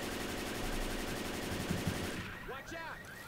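Rapid automatic gunfire from the Left 4 Dead 2 video game, a loud sustained burst that stops abruptly, followed by a few quieter scattered sounds.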